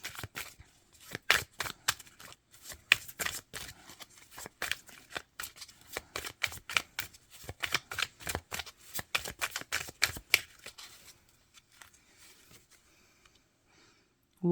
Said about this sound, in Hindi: मैं आपके सामने ही सारे कार्ड शफल करती हूँ और निकालती हूँ।